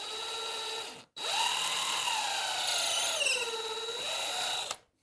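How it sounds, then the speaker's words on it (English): A power drill bores a small hole through a piece of wood for a pinch rod, a steady whining motor tone that rises and dips as the bit bites, running alone for about four seconds after a brief stop. "I am going to drill a small hole through it"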